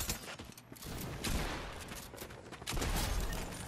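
Rapid gunfire bursts from a weapon in Fortnite OG, dense and continuous over in-game noise, fairly loud and close throughout.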